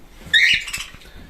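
Cockatiels in an aviary in a hobby garden let out one sharp, nearby squawk, followed by faint fluttering and soft patter.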